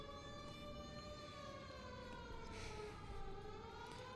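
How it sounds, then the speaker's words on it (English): Police-style sirens in the LA Noire video game, a steady wailing tone with slowly rising and falling pitch that runs continuously and moderately loud, with no talking over it. "I left you guys with the with the sound of sirens to keep you company"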